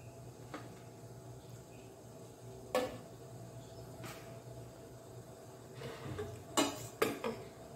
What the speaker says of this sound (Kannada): ಈಗ ಇದರಲ್ಲಿ ನಾವು ಒಂದೊಂದಾಗಿ ತಟ್ಟೆಗಳನ್ನು ನೋಡಿ ಹೀಗೆ ಇಟ್ಕೊಳ್ಳೋಣ.